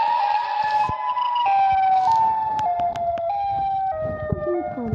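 A wailing Siren Head siren from a video game, loud and close, sounding alone as a sustained howling tone that steps down in pitch across its length, joined by a few sharp clicks.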